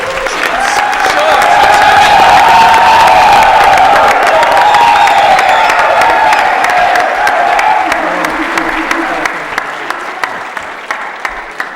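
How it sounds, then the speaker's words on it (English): Loud, sustained audience applause mixed with cheers and whoops at a startup elevator pitch competition, swelling early and holding steady before thinning out into scattered claps near the end. "How about a nice round of applause?"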